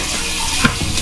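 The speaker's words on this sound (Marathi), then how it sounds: "आता या तेलामध्ये मटणाचे तुकडे सावकाश सोडायचे." Mutton pieces slid into hot oil in a kadhai give a short burst of close sizzling and frying, with a brief splash as a piece lands.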